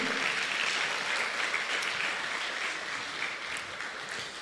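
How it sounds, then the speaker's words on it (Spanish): Congregation applauding in a church service, a sustained wash of hand clapping that stays fairly loud and gradually tapers toward the end, with no talking over it. "Denle una ofrenda de palmas al Rey."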